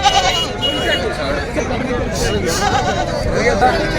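Goats bleat amid a busy livestock market at Nandgaon, their calls rising over constant crowd babble and bargaining voices, with several animals calling from different distances.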